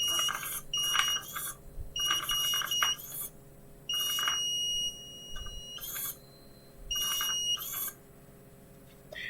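An Arduino project's piezo buzzer sounds in repeated shrill electronic beeps, bursts of about a second each separated by short pauses, loud and close with no talking.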